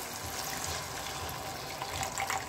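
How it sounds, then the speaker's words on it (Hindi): Two cups of water pour steadily into a pan with sugar to make syrup for chana dal halwa, a continuous close gushing splash with no talk. "ये 2 कप पानी डाल दिया है। इसकी हम चाशनी बनाएंगे।"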